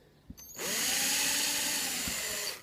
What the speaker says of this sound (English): so that's the drilling done.